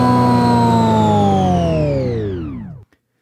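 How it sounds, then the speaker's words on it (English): A sustained tonal recording drags downward in pitch like a tape slowing to a stop, sliding lower and fading before cutting to silence. "it speeds up or slows down the recording to sound kind of like a record or a tape"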